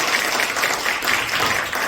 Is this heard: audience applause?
yes